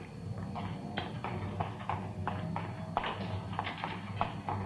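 A printing press runs in a radio drama sound effect, a continuous mechanical clatter of rhythmic thumps and taps repeating steadily at moderate volume.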